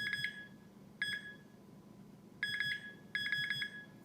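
A handheld metal detector pinpointer, a Nokta or Garrett Pro Pointer AT, gives clusters of quick high-pitched beeps: a short burst, a pause, a single chirp, then two longer stuttering bursts over a faint low background hum.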